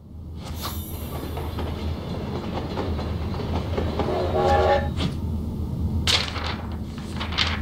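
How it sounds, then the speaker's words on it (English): A video game train, the iron carriage, rumbles steadily along the rails with a constant low rolling drone, clanking and brief higher squeals near the middle and end, heard alone. "You can take the iron carriage known as the train."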